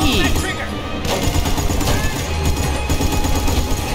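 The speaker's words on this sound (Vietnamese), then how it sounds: "Mình điều khiển súng máy nha." Dense, loud machine gun fire rattles without letup in the video game Battlefield: Bad Company 2, with bursts and booms layered over one another through the whole four seconds.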